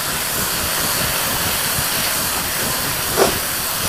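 Chili powder frying in hot oil for a Kottayam fish curry, giving a steady, dense, loud hiss with a single sharp pop near the end and no speech.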